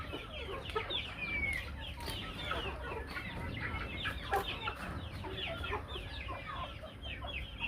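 A flock of about two hundred hens clucks steadily in a free-range poultry area. The clucking is dense and overlapping, with sharp squawks and chirps rising above a constant farmyard din.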